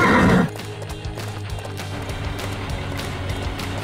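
Cartoon pony giving a loud, shrill whinny at the start, followed by steady, rhythmic clip-clop of galloping hooves that continues to the end.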